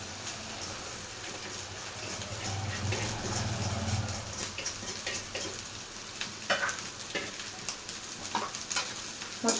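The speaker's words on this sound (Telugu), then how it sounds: "మొత్తం పై నుండి కిందకి ఇలా కలుపుకోవాలి బాగా" Cooked basmati rice being stir-fried and mixed with egg in a hot pan for street-style egg fried rice, a continuous close sizzle broken by repeated scraping and tossing clatters, no speech.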